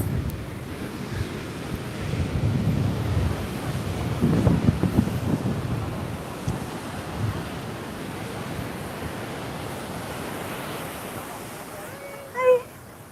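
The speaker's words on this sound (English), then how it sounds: "That's how serious the wind is." Strong wind buffets the microphone at Laguna Beach: a heavy, continuous low rumble with gusty surges, surf blending underneath, and a brief sharp blip near the end.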